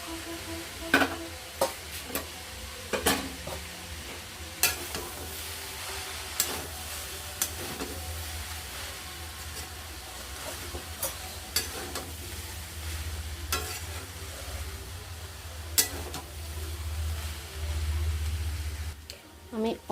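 Vegetables and pea filling for veg momos being stirred in a frying pan, with a steady low sizzle broken by sharp scraping and clacking strokes of the spatula at irregular intervals, close by.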